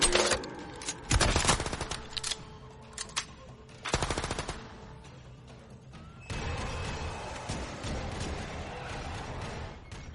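Heavy gunfire from big guns in the video game Niro VII: loud bursts of rapid automatic fire in several volleys, then a sustained rumbling barrage near the end, with no voices.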